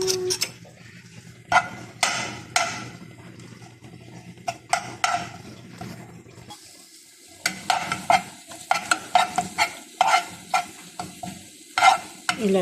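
Garlic frying in oil in a pan for a molokhia dish, with a constant sizzle under repeated metallic scrapes and clacks of a spatula stirring against the pan, close and busy, no speech.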